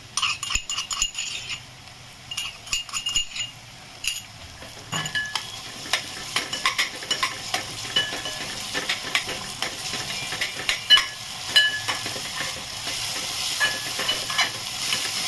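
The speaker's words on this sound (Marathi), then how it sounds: "तर हे पण आता फ्राय करून घेते, परतून घेते चांगलं याच्यामध्ये" Ginger-garlic paste and green chillies fry in hot oil for a spicy dry moth bean curry, giving a steady sizzle with scraping and stirring clinks, clearest after the first few seconds. No one speaks.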